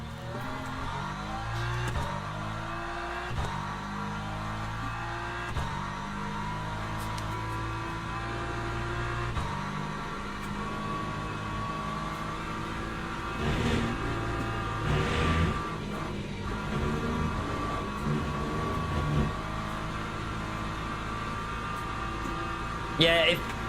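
Race car engine in Le Mans Ultimate at a steady warm-up pace, a continuous harmonic whine rising and falling with gear changes and corners, with someone talking over it.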